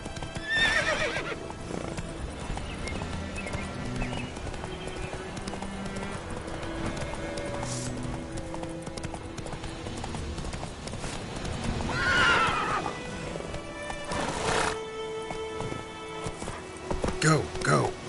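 Horse galloping with rhythmic clip-clop hooves and repeated loud neighs and whinnies, from the video game The Witcher 3, with game music and a voice speaking over it throughout.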